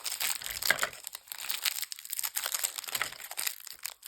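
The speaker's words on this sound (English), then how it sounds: "if I can get the packaging off" Plastic wrapping around small individually wrapped Valentine treats crinkles and tears as it is pulled open, a quiet close-up run of crackly rustling bursts with no talking.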